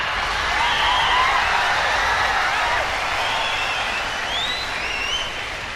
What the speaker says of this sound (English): I thought that was people cheering even louder at first.